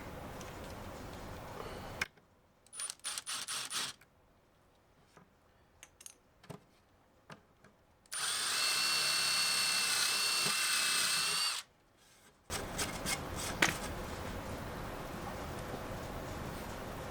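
A drill fastens a magnet onto a DIY tailgate table in a series of short bursts, then one long, loud, steady spin of several seconds, followed by more rough buzzing.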